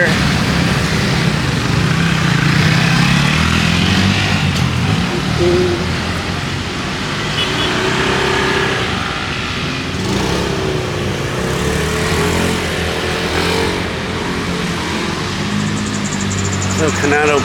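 Cars and motorcycles pass on a main street in Singaraja, engines idling and humming at a steady moderate level for the whole stretch while a person talks over the traffic.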